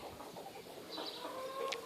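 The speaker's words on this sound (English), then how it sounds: "chickens." Chickens cluck on a farm near cattle, brief faint calls over steady outdoor background noise with a sharp higher cluck near the end.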